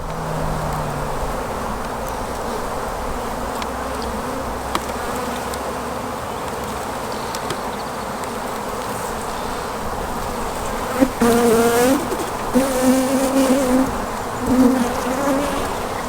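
Honeybees buzz steadily at an open hive in mild weather, a dense continuous drone close by, with a few louder individual bees passing near toward the end.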